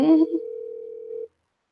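A telephone call going unanswered: a brief burst of voice, then a single steady electronic ringback tone holding for about a second before cutting off.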